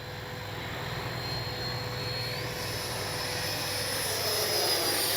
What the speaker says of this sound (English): Good flying little jet, just small.